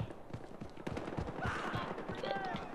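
Rapid gunshots and bursts of gunfire crackle in the Battlefield Hardline heist mode, mixed with game effects while a player talks over the action.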